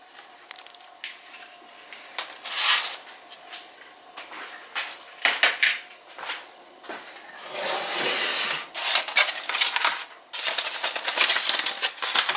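Aluminum foil is peeled and unwrapped from a smoked pork shoulder cooked on a Weber kettle grill, giving irregular close crinkling, rustling and crackling bursts separated by short quiet gaps.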